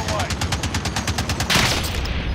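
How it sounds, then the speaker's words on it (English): Rapid automatic gunfire from the video game Call of Duty: Modern Warfare, a steady stream of close, loud shots with a brief heavier burst partway through, with no talk over it. "I'm getting shot from every direction."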